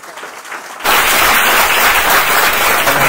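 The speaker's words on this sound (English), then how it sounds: "Everybody, a round of applause, please." After a brief quiet moment, an audience at a digital-manifesto panel session bursts into loud, sustained applause that holds steady and close.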